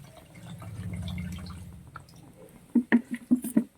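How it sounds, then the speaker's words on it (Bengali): Water goes into a pan of katla fish curry with potatoes: a low, steady pouring rush for about two seconds, then a run of sharp, close splashes and drips. "এবার আমি জল দিয়ে দেবো"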